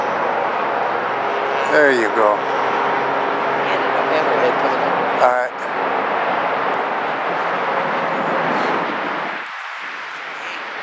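The engine of an RV-4 light airplane drones steadily in flight during a flight test. It is loud and constant beneath people talking over it, then eases slightly near the end.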